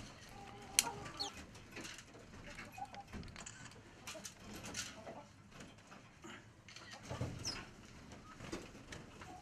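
Chickens on a small farm flock cluck and murmur at moderate distance, scattered short calls over a quiet rustling background with a few sharper peaks.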